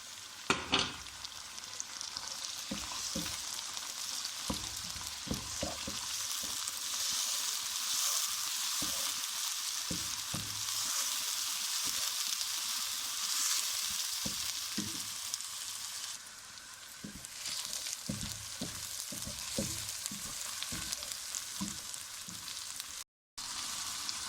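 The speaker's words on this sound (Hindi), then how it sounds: "अब इसमें अदरक लहसुन डालेंगे।" Onions, ginger and garlic sizzle steadily in a hot pan for aloo gosht, a continuous bright frying hiss with occasional stirring clatter, close and loud throughout with no talking.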